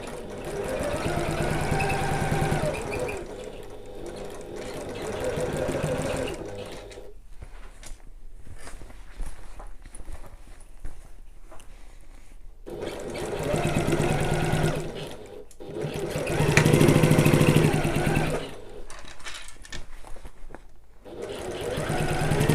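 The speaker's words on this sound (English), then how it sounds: "Now I'm going to back stitch there because that's where my elasticated pocket was" Sewing machine back stitching the lining of a bag, running in close steady bursts of whirring stitches separated by quiet pauses as the seam is reinforced.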